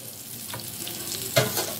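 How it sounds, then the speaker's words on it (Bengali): Katla fish paturi wrapped in bottle gourd leaves frying in a pan gives a soft, steady sizzle with a brief louder crackle near the end; no one speaks. "আরও কিছুক্ষণ গরমে থাকবে, তো পাতাগুলো আরও ভালো ভাজা ভাজা হয়ে যাবে।"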